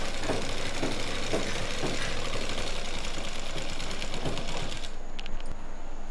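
A sewing machine stitches a lined pant near a pocket opening, with a continuous close mechanical rattle that stays loud and even throughout, with no talking.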